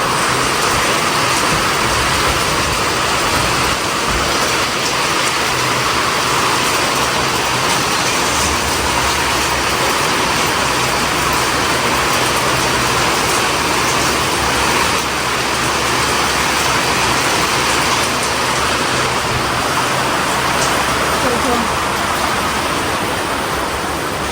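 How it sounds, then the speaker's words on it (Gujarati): Steady, dense roar of heavy rain pouring continuously throughout, loud and unbroken, with no voices. "બારે તો ફૂલ વરસાદ ચાલુ છે"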